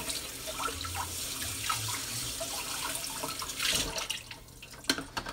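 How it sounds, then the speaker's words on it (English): Water runs from a kitchen tap in a steady broadband wash at moderate level, with a few clatters and brief knocks near the end, during a Thanksgiving cooking session. "What does the water sound like?"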